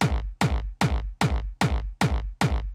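A black kick from a remix competition sample pack stacked with a clap and a distorted reverse-bass sound, hitting in a steady loop of seven loud, evenly spaced punchy beats, each with a booming low thump and a bright, noisy crack.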